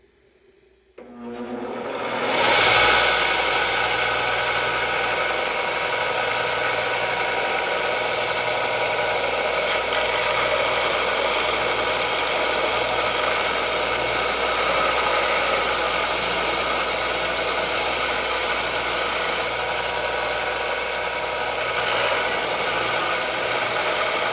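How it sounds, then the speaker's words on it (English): A belt sander flattens a welded Harley chopper kick start. After a second of quiet it spins up and holds a loud, steady whir for over twenty seconds, with no talk. "I'm going to finish it out with the belt sander"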